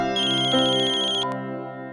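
A mobile phone plays its melodic ringtone, loud and close with a steady tune and no voices, before it cuts off near the end.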